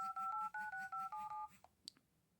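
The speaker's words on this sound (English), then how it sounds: "Do some dialing." A Kyocera Hydro Wave C6740N phone plays keypad dialing tones, eight quick evenly spaced beeps close up, followed by a couple of faint clicks.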